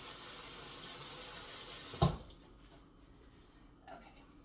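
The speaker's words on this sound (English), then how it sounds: "let me rinse off my hands real quick." Water from a kitchen tap runs steadily while hands are rinsed, a broad close hiss that cuts off abruptly with a short clunk, leaving a quiet room with a faint knock afterward.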